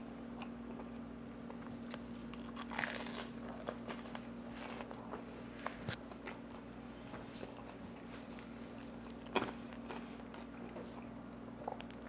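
Close-up chewing and crunching of bacon and cheese toast with garlic aioli, irregular bites and clicks over a low steady hum, with no speech.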